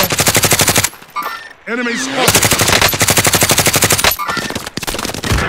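Rapid automatic gunfire in the video game Call of Duty: Warzone, loud, dense and sustained, with sharp repeated bursts broken by a brief lull, while a player talks over the shooting.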